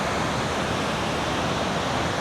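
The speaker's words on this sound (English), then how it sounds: "Beautiful waves there." Ocean surf at My An Beach in Da Nang, Vietnam, a steady, loud, broadband wash of breaking waves that fills the whole moment with no voices.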